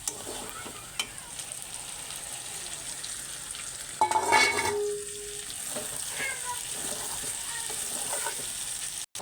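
Potatoes and onions frying in plenty of oil in a pan during home dinner cooking, a steady soft sizzle with occasional stirring clatter and a brief louder burst of hissing near the middle.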